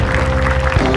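A studio audience on a television talk show claps briefly, producing a short, dense, loud burst of crowd applause.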